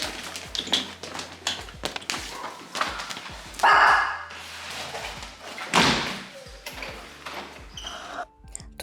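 Dogs at an animal shelter being brought indoors for the night: intermittent barking, door slams and dull thuds echo in an enclosed space.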